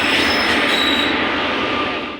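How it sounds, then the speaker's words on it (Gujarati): Bandra–Veraval passenger train at the Veraval platform: a steady, loud rumble of rail cars with faint high wheel squeal, continuous without voices, thinning slightly at the end. "બાંદ્રા વેરાવળની ટ્રેન છે વેરાવળનું પ્લેટફોર્મ છે"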